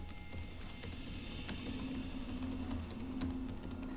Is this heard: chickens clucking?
no